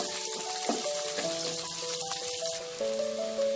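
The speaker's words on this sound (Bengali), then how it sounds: "পেঁয়াজটা ভাজা হয়ে গেছে" Chopped onions, two large ones, frying until browned in a pan for gobi manchurian, giving a steady, fairly quiet crackling sizzle throughout with tonal music playing over it.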